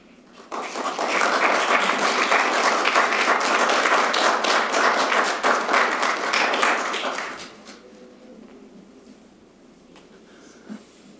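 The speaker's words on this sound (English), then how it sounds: "I don't think that round of applause" A round of applause at a council meeting, with many hands clapping loudly and continuously for about seven seconds before it fades out, leaving a quiet room with faint movement.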